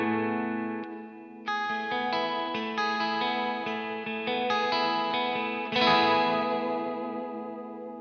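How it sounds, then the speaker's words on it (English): Electric guitar through a Laney Black Country Customs pedal set to spring or plate reverb with modulation, ringing chords that shimmer and swirl, with a long wobbling tail and a fresh strum near the end, played alone. "modulation to your reverb."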